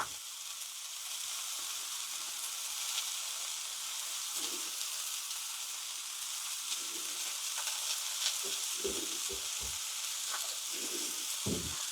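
Smash burger patties sizzling on a Ninja Sizzle Pro XL griddle, a steady moderate hiss of frying fat with scattered pops and faint clicks, close by and without talking.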